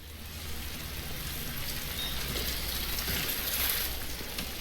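Steady rain in the video game Death Stranding, a continuous hiss of falling drops that holds at an even level throughout with no voices over it.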